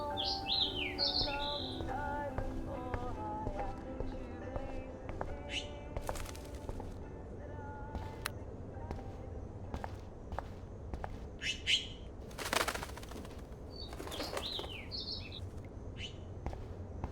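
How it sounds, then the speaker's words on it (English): A small bird trapped indoors in the game Life is Strange chirps in short bright bursts over a low ambient hum, with faint scattered clicks and soft thuds between calls. "That poor little bird has been trapped in here."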